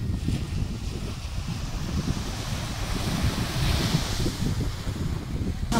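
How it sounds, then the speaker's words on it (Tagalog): Sea waves wash in at San Jose port in Sabang, Camarines Sur, a steady surf roar with gusty wind buffeting the microphone, loud and continuous, without speech. "Wow, sarap ng alon."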